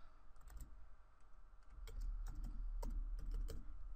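Someone types a password on a computer keyboard, and the keys give soft, quiet clicks in short uneven runs over a low steady hum, with no voice.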